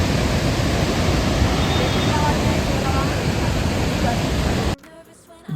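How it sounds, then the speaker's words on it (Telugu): Water roars from the Srisailam dam spillway as a loud, dense, unbroken rush that fills the space, cutting out abruptly near the end to a quieter background. "డ్యామ్నే కాదు డ్యామ్ సౌండ్ కూడా ఎంజాయ్ చేయొచ్చు మీరైతే"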